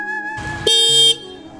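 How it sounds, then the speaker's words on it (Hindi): A scooter horn sounds steadily, then a brighter, louder honk cuts in for about half a second before the first tone carries on. "हॉर्न बज रहा है"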